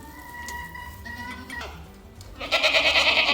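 Young goat kids bleat on a spring farm, with several overlapping cries close by and a louder, busier burst of bleating toward the end, plus a few faint clinks in the background.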